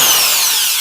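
An Ibell ED06-91 electric drill runs steadily at its slowest screwdriver speed, a close, continuous whirring motor whine that holds without a break through the brief burst.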